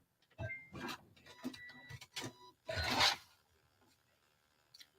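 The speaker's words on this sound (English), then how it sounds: "I'm doing my 5/8 of an inch stitch. And I'm just stitching on the right side of the fabric" A sewing machine stitches a 5/8 inch seam on fabric in short, quiet bursts of whirring separated by pauses.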